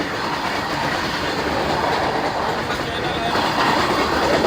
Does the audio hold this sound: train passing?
yes